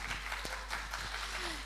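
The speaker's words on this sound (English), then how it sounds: "Please give us applause." Applause from a symposium audience after a string group's performance, a steady wash of clapping that stays fairly faint throughout, with some voices mixed in.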